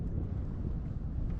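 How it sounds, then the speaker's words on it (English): Wind gusting across a lake during a solo canoe trip, a steady low rumbling roar buffeting the microphone, fairly loud and constant with no voices. "A little windy"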